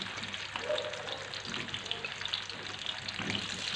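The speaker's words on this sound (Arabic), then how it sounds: "غادي نديروا هاد البطاطا بحال هكا بشويه من راه الزيت سخنات" Potatoes fry in hot oil in an electric pan, producing a soft, steady sizzle and bubbling heard close but fairly quiet, with a few faint stirring sounds.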